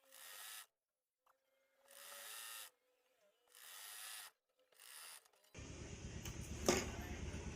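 Sewing machine stitching a lined plazo, running in short bursts of rapid whirring separated by pauses, close and fairly quiet, then a louder busier stretch near the end.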